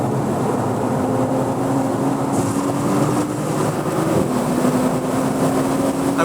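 A 2016 BMW M2 engine accelerates on a race track, heard as a loud, steady, close droning roar with a faint rising tonal whine throughout.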